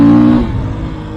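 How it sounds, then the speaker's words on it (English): Off-road motorbike on a rough trail accelerating in second gear, a loud, close engine note that swells briefly and then eases back into a steady rumble within about a second, with no speech. "second gear, you get on that throttle just a little bit"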